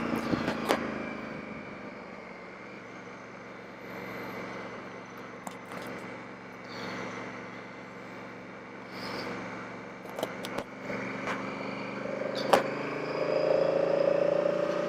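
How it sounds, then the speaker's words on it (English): A 2018 Honda Africa Twin Adventure Sports motorcycle riding along, its engine and induction noise a steady mid-level drone under wind rush, rising slightly toward the end with a few small clicks. "So you can actually notice the induction noise a bit more."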